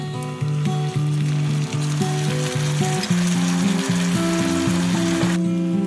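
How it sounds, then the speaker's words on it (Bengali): Tomato paste added to garlic and ginger frying in a pan, a steady loud sizzle with the rhythmic scrape and knock of stirring throughout, no voices. "এবার টমেটো পেস্টটা এর মধ্যে দিয়ে"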